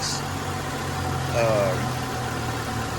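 A 2010 Buick Lucerne with a 3.9 liter V6 idling, a steady low engine hum heard up close, with a brief faint whine rising partway through.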